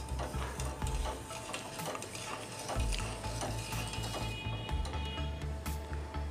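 A spoon stirs sugar syrup in a pan over a gas flame, producing steady scraping and clinking strokes with a soft sizzle underneath, close and continuous.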